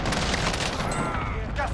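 Rapid close-quarters bursts from an FR 5.56 FAMAS rifle in Call of Duty: Warzone, loud, continuous crackling fire inside a building with talk underneath.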